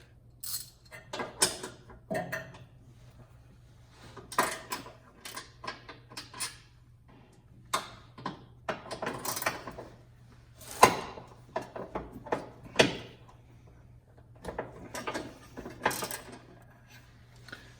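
A ratchet wrench works the 12 mm bolts on the chassis-side main rear sway bar mount of a 10th generation Honda Civic. Close, repeated bursts of sharp ratcheting clicks are separated by short pauses.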